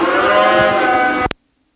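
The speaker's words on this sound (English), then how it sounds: "Black Angus heifers, average weight 1209" Black Angus heifers at a commercial cattle show ring in Edam, Saskatchewan, give one loud, close, sustained moo that breaks off abruptly, leaving silence.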